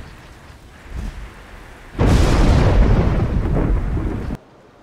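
Video game thunder near a church, a loud rolling rumble that surges in and sustains with rain-like hiss for a couple of seconds before cutting off abruptly.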